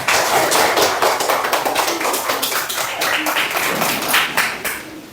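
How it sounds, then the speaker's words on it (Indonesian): A group of people in a classroom session claps hands loudly and quickly in a fairly rhythmic burst that thins and fades near the end. "Oke, tepuk tangan."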